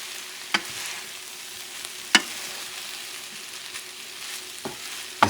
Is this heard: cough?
no